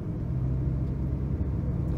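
A 2002 Toyota Camry rolls toward a stop, heard from inside as a steady low engine and road rumble, constant and fairly loud with no voices.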